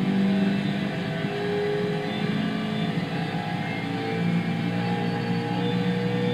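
A BMW M3 E92 with a 4-litre 32-valve V8 and six-speed manual gearbox drones steadily from the cabin in Gran Turismo 6, a constant loud engine note with slight pitch swells and no gear breaks.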